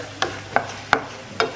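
Carrots go into a coconut chicken stew in a pan, followed by four sharp stirring clacks of a utensil at a steady pace over a faint background hiss, close by.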